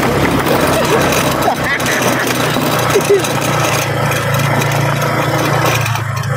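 A Honda Click motorcycle's engine drones steadily and loud through the whole stretch, with rough rumble and wind-like roar on a falls-bound ride, while voices chatter over it.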